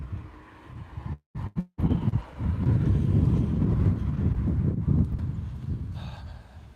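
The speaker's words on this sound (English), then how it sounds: "a little windy out today" Gusty wind buffets the microphone in a continuous low rumble, with brief dropouts near the start, and no voices.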